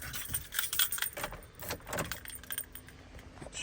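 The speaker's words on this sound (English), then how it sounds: "Now let me grab the keys." Truck keys jangling close by, a bright metallic clatter in several quick bursts, with quieter rattles afterward.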